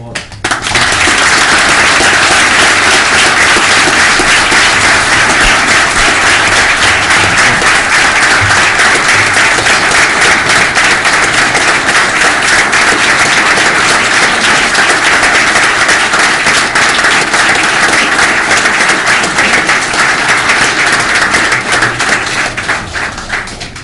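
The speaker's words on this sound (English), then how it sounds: "Give them a round of applause." A town meeting audience gives a long, loud, continuous round of applause for police officers, dense clapping filling the room steadily from start to finish.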